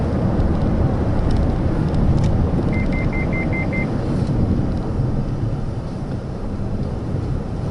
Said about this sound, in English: It's a little bit of a higher pitched beep.